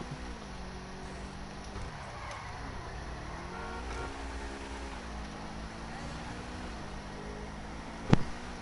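A stolen Mamba car in GTA V runs with a steady in-game engine drone whose pitch rises and falls with throttle, constant and fairly close, with a brief sharp click near the end.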